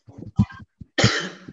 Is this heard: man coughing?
yes